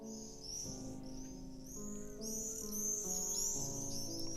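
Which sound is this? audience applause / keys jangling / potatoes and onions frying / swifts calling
swifts calling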